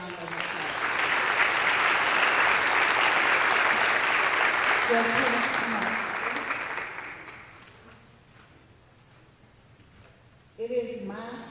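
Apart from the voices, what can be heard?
audience applause for Judge Bennett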